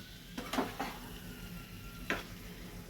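Fish curry (echorer kalia, young jackfruit) being stirred in a pan with a spoon after water is poured in, heat turned low: a few soft scraping clinks and brief sizzles spaced apart, close and fairly quiet.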